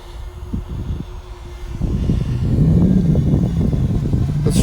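Parrot Anafi drone in flight, a low buzzing motor drone that jumps louder partway through and holds steady with a wavering tone, fairly close and with no one speaking.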